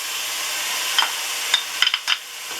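Onion and bell pepper cooking in a pan for a Spanish-style tripe stew give a steady bright sizzle, with several quick clicks and scrapes from a utensil stirring near the end.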